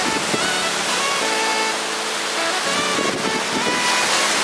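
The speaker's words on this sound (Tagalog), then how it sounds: "lakas ng alon oh" Strong surf crashing on Sabang Beach in Baler, a broad steady roar of breaking waves with surges of spray, close and loud with no talking.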